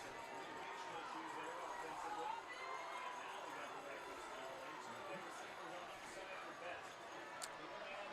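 A high school football crowd makes a steady, distant roar of cheering and chatter in the stands, faint and continuous, with a voice talking over it.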